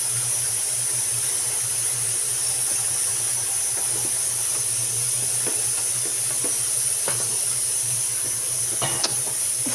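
Prawn curry sizzling on an induction cooker as it is stirred: a steady, loud hiss of frying runs throughout, with a low hum beneath and faint scrapes of the spoon.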